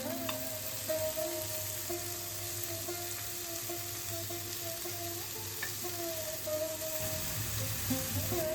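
Flipped chicken tikka pieces keep frying on a hot grill pan over a high gas flame, an even, continuous sizzling hiss throughout with a faint steady hum beneath.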